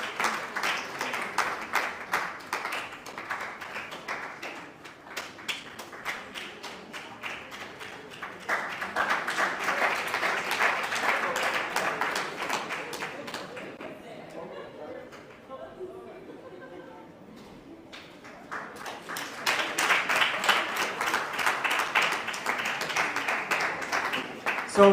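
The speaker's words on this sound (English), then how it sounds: "Let's continue to clap for them." Conference audience applauding in a hall, sustained clapping from many hands with crowd chatter underneath; the applause dips briefly to murmuring in the middle before swelling again to full clapping.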